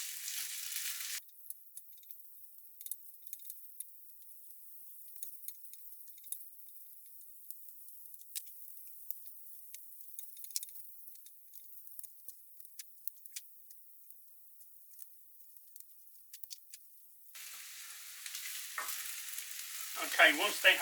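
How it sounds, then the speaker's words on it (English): Chopped onions frying in hot oil and being turned in the pan, a steady close sizzle with scattered crackles and pops throughout, louder scraping and stirring near the start and end. "Get your onions in and give them a turn. Make sure that they're all coated in oil and cooking away."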